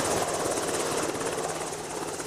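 A National Guard helicopter flies over storm-battered Galveston the day after Hurricane Ike, its rotor throbbing loud, steady and close throughout, with no breaks.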